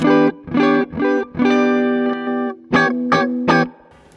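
Clean electric guitar through a Quad Cortex capture of a Viceroy amp plays a short phrase of plucked chords and notes, ringing with a little spring reverb and no voices.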